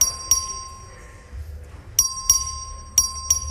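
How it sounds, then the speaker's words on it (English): A voting bell rings in the Texas House chamber, sounding three pairs of bright, close metallic dings spaced about a second apart over a quiet room murmur. "Clerk, ring the bell."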